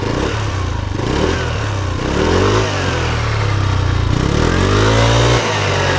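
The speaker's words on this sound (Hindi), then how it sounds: "एक बार इसका एग्जॉस्ट नोट सुन लेते हैं कि उसकी आवाज है कैसी" Hero Xoom 160 scooter exhaust note, loud and close, idling then revving up in repeated rising and falling swells with a mechanical clatter underneath.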